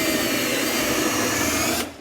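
A power drill boring pilot holes into a 2022 Chevrolet Silverado truck frame, a steady loud whine close by that stops abruptly just before the end.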